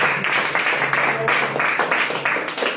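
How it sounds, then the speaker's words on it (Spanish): A church congregation claps loudly and continuously in a steady, dense wash of applause for nearly three seconds, filling the room without pause. "¿Cuánto le da un fuerte aplauso a Cristo?"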